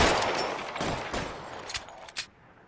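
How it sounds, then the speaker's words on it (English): Tommy gun fire in the video game L.A. Noire: a burst of close, sharp gunshots at the start, then a few more scattered reports fading amid the noise of a shootout. "Der scheint eine Tommy Gun zu haben."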